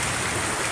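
Heavy rain falls in a steady, dense broadband hiss, loud and continuous with no break, and no voices over it.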